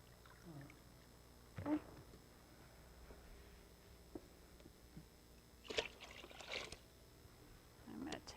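Water poured out of a foot bath, heard as a few separate splashing, trickling bursts spread over several quiet seconds with soft background noise between them.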